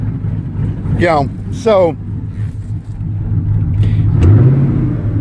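A car engine idles with a low hum, then revs briefly with a rising whine near the end, while someone talks over it close by.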